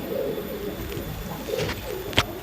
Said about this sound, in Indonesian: ini burung yang namanya Grinda Seba